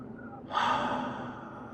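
A single audible inhale during a guided breathing exercise begins about halfway through, a soft airy rush that swells and then tapers, close and quiet with no talking.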